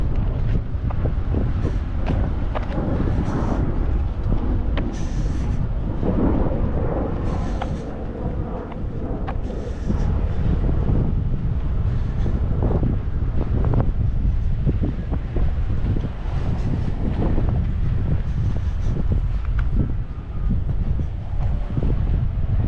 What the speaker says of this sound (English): That wind is really kicking.